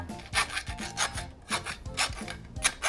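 A half-round or triangular steel file rasping across metal pipe, a close, gritty scraping in repeated back-and-forth strokes with a fairly even rhythm and no talk.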